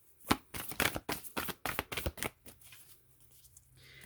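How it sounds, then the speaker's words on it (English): Tarot cards being shuffled in quick bursts of riffling and flicking, close up, tapering off into quiet near the end. "I like shuffling these cards this way."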